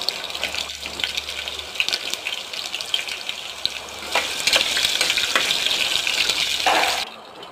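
Chopped carrots and potatoes fry in a hot tempering of oil, giving a steady, close hiss with occasional stirring scrapes, until the sizzle cuts off abruptly near the end.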